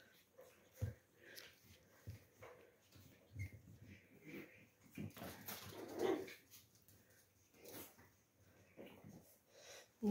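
A puppy whimpers and whines in short, high bursts, with soft rustling and a few faint voices in the background.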